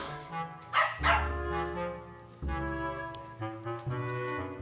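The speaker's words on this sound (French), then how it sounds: "j'ai vu les chiens sans surveillance toute la journée" Several dogs left unattended bark and yip in sharp, repeated bursts, close and loud, with some whimpering tones between barks and a faint musical background.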